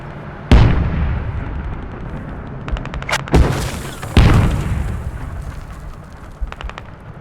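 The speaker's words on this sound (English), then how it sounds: "The friendly tank crews begin to open fire" Tank cannon fire in a competitive team video game: four heavy booming shots at irregular intervals, each with a sharp crack and a rolling echo. A faint clattering of rapid smaller fire sits between the shots.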